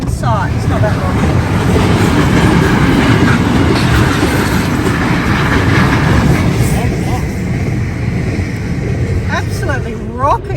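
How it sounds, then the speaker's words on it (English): A high-speed train rushes past, close and loud, with a constant roar and rumble of wheels on rails and faint squeals, while a voice talks over it. "That's a speed train."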